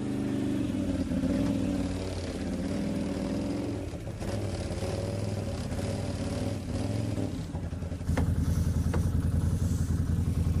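A Dodge pickup truck engine runs with a steady low rumble, rising to a louder, fuller rev toward the end, heard up close with no talk.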